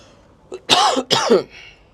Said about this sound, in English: I've noticed I've been coughing today